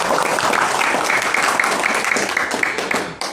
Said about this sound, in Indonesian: Tepuk tangan lagi kepada peserta yang paling baik.